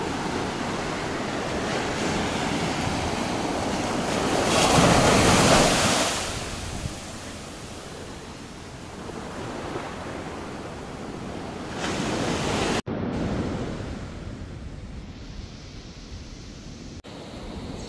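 Sea waves surge and break close beside a beach house on the Malibu, California shore, a steady roar of surf with wind rushing across the microphone, swelling louder partway through before settling back.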